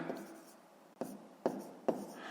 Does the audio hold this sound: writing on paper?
yes